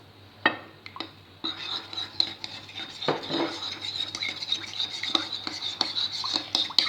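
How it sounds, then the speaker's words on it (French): An egg being whisked into salted water in a bowl, giving a quick, continuous rhythmic clinking and scraping of utensil against the bowl, close and moderately loud, with a few sharper taps. "Je vais bien mélanger."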